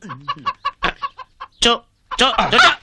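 Short, choppy chicken clucks in a Telugu film comedy scene come in quick bursts, close and fairly loud, broken by brief pauses and mixed with voice-like sounds.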